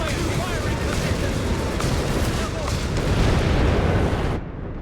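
Rocket barrage artillery fire in Company of Heroes 3, a dense, loud, continuous roar of launches and blasts rumbling for several seconds before cutting off abruptly.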